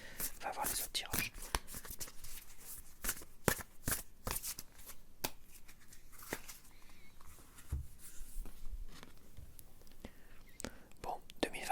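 Tarot cards are shuffled and drawn close up in a soft, crisp series of riffling and snapping bursts, with a quiet whispering voice at times.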